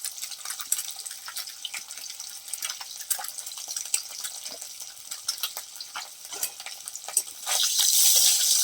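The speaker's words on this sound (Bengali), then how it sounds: "আমি এখন যে ডিমগুলোকে ভেজে নিচ্ছি" Peeled boiled eggs fry in oil in a pan, a thin, crackling hiss with scattered pops and light scrapes, swelling into a brighter, louder sizzle near the end.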